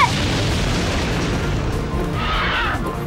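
A sustained, roaring blast of fire surges loudly and evenly, with a hissing crackle rising near the end.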